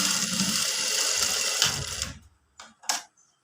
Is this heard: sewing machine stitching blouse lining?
yes